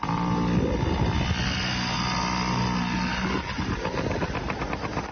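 Motorcycle engine running steadily as a toddler of about one and a half rides a bike larger than himself, a close idling-to-revving drone with slight throttle changes near the end.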